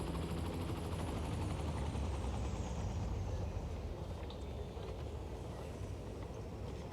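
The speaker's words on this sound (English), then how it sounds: "Surprising number of helicopters are coming back and forth. Here comes one right now." A helicopter in the Cities: Skylines city-building game, carrying passengers, flies past with a steady dense rotor rumble and whine that fades slightly, alone with no talk.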